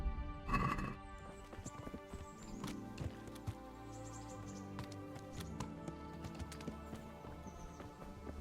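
Horse in the medieval video game Kingdom Come Deliverance, a loud whinny at the start followed by scattered hoof clops and ambient game sounds, with no talking.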